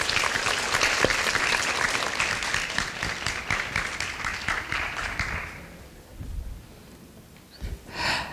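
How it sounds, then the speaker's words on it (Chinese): An audience at a university lecture hall applauds the arrival of two guest speakers, sustained and full for about five seconds before thinning out, then a few scattered claps and soft rustling follow. "现在就让我们以热烈的掌声欢迎陈文茜陈老师"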